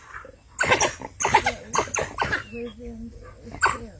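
African wild dogs attack prey on safari with a series of close, harsh yelps, grunts and bark-like calls, with people talking over them.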